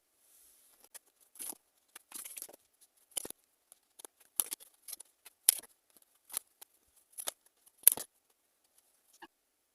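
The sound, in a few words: tarot cards being drawn and handled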